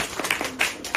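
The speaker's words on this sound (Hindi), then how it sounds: "जरूर ताली बजा दो" A classroom during a physics lesson, where a few scattered hand claps ring out sharply and unevenly over a faint room background.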